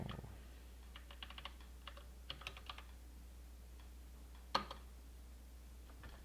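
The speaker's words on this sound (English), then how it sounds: "actually typing in the password" A password is typed at a Windows Server login screen on a computer keyboard, producing scattered short bursts of crisp, close key clicks and one louder keystroke, then quiet.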